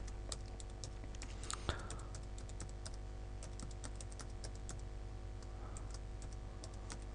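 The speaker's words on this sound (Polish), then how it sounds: "A więc wpisujemy adres mailowy." Steady rapid clicking of someone typing on a computer keyboard, close and fairly quiet, continuous for several seconds with one sharper knock partway through and no speech.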